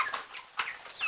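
Broiler chickens clucking in their pen, a quick string of close, busy clucks and short squawks overlapping, with a faint flutter of activity and no talking.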